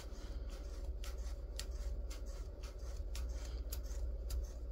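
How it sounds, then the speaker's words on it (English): A run of crisp snipping cuts, about a dozen in quick, uneven succession, as scissors chop through crocheted yarn over a low steady background hum. "we're going to go with our scissors and cut through the middle of this"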